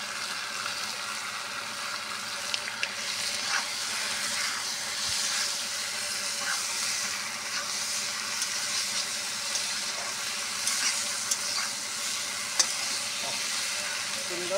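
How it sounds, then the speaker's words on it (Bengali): Malabar spinach stems frying with turmeric in a hot pan give a steady, continuous sizzle throughout, with faint stirring scrapes and small clicks over the crackle, no talk. "সুন্দর ভাজা হচ্ছে, এবার এই ডাঁটাটাও এর মধ্যে দিয়ে দিব"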